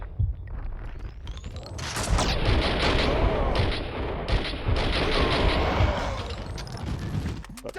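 Gunfire in the video game Max Payne during a fight with cleaners, with bursts of rapid shots and heavy booms that come in waves, loud and close, over a dense mechanical background.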